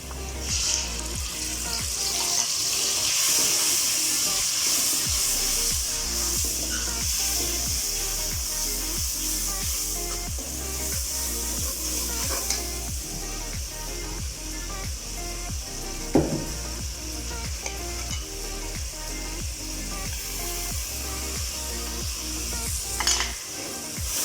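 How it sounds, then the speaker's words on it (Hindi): Onions and spices frying for a curry, with a steady soft sizzle under repeated rhythmic scrapes and taps of a spoon against the pot, close and moderately quiet, with no talking. "अब हम इसमें अपना मसाला डाल देंगे"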